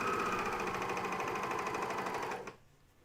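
A coverstitch machine sews pajama tops with a fast, even mechanical chatter, close and steady for about two and a half seconds before it stops and leaves near silence.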